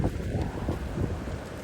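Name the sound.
sandstorm wind outdoors in Eastern Saudi Arabia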